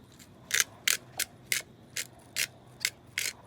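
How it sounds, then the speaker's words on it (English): Fresh peppercorns cracked in a pepper grinder beside a double-burner fry cart, eight crisp ratcheting bursts in a steady rhythm, close and fairly quiet with no talk. "some fresh peppercorns that I'm going to grind in"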